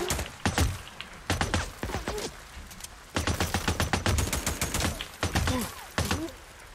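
Bursts of automatic gunfire in the game Days Gone, loud, close and sharp, coming in several rapid volleys separated by brief pauses.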